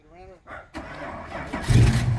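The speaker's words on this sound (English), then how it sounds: "Cold start." A 1972 Dodge Challenger hot rod fires up from cold, a short cranking burst followed by the engine catching and rumbling louder, preceded by a brief spoken voice nearby.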